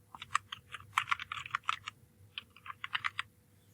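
Rapid clicks of typing on a computer keyboard, close and clear, in uneven bursts with a short pause midway.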